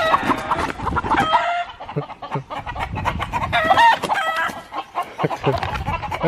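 Frightened chickens cluck and squawk in agitated bursts on a Philippine house-building site, with sharp calls and a short crowing-like cry repeating throughout, close and fairly loud over light background activity.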